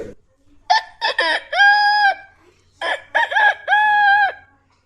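A child at a primary school cultural program mimics a rooster crowing twice, each a loud, close cock-a-doodle-doo with choppy opening syllables and a long, held final note.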